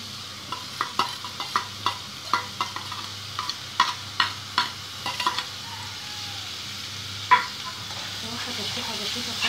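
A large chopped onion fries in hot fat while being cooked for rice-stuffed pigeon. A close, steady sizzle runs underneath, broken by a quick series of spoon scrapes and clicks from stirring, then a single louder knock near the end.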